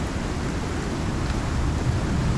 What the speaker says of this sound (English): Oh, it's only the storm.